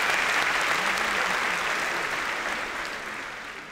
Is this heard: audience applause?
yes